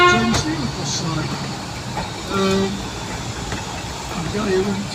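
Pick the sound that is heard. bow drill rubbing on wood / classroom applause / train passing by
train passing by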